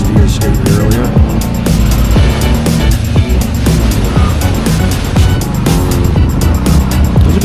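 A 2025 Kawasaki Brute Force 750 ATV on Bighorn 2.0 tires rides over rocky, hilly, muddy and dusty Nova Scotia terrain; its engine drones loud and close without a break, with bumps and wind noise.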